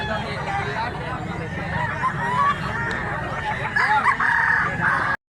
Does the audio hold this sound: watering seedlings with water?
no